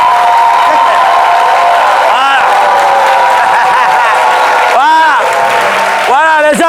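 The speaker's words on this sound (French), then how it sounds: "Ça s'applaudit." An audience applauds and cheers in a burst of clapping, heard under someone talking loudly over it.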